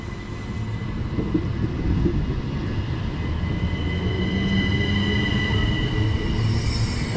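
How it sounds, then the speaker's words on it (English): A Southeastern train, unit 375 620, departs on the Ramsgate to London Charing Cross service with a continuous rumbling roar of wheels on rail and thin squealing tones rising toward the end. "now going out is the 12:11 southeastern service from Ramsgate to London Charing Cross"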